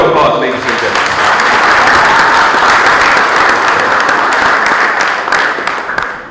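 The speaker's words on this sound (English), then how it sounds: "Give them a big round of applause, ladies and gentlemen" Graduates of 2022 at a George Stephens Senior Secondary School graduation ceremony receive loud, sustained applause from a large crowd, a dense wash of clapping that holds steady for several seconds before tapering slightly.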